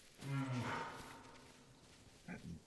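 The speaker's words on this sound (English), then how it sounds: "it's a cow, it's a female" A female cow moos in the hunting game theHunter: Call of the Wild, one long low call near the start, then a shorter, fainter grunt near the end over quiet background.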